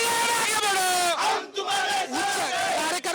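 Political supporters celebrating outside Muralidhar Mohol's office chant and yell together in loud rhythmic bursts, a crowd of raised voices rising and falling in repeated waves.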